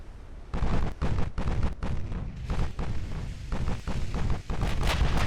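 Deep booming impacts from torpedoes striking ships in the naval battle game Ultimate Admiral Dreadnoughts, a rapid run of heavy thuds and blasts over a rumbling, windy roar, loud and close, with no talking.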